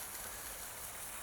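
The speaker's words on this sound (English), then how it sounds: "Let's rinse that off." Water rinsing wheel and tire cleaner off a car wheel rim, a steady, close hiss of spray running without a break.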